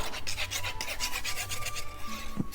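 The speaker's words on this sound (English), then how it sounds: "let's burnish that really well" A paper fold on a gingerbread-themed scrapbook mini album is burnished with rapid rhythmic rubbing strokes, a close dry rasping scrape repeated about a dozen times, with one soft tap near the end.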